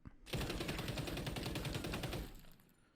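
Rapid automatic gunfire from a weapon in the XDefiant open beta video game: one sustained, loud burst of closely spaced shots lasting about two seconds, then a brief fading tail, with no talk.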